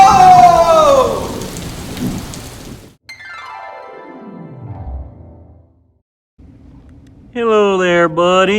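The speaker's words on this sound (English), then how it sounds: "I think we hit a storm." Staged storm sound effects with rain hiss and rumbling thunder, loud at first, then a long descending sweep fading to near silence before a sharp burst returns at the end.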